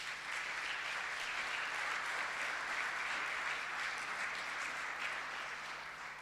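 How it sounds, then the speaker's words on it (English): Steady, sustained audience applause at the close of a session at a savanna science network conference, a dense even clapping wash lasting the whole stretch with no break. "Maybe we can just give them all a round of applause."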